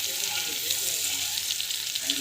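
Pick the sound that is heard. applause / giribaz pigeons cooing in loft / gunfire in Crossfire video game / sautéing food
sautéing food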